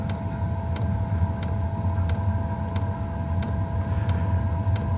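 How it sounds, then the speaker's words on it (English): A portable diesel heater with a modified exhaust and air intake starts up, its pump ticking in steady, evenly spaced clicks over a constant low rumble and hum, close and moderately loud. "You can usually hear the pump going, which will quieten down after it starts."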